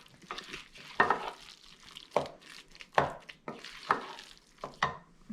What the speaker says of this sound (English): Mix this up a little better with the spoon